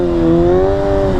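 A Kawasaki 636 sport motorcycle engine revs briefly under a bit too much throttle, a loud close buzzing tone that rises slightly and then holds.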